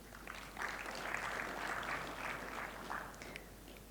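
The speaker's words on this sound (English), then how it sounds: "With a round of applause." An audience at an agricultural youth employment opening session gives a round of applause, soft and somewhat distant, sustained evenly across the whole span over a low background hum.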